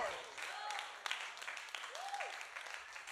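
A church congregation claps hands during a sermon, a faint, steady patter of many hands with a voice carrying over it.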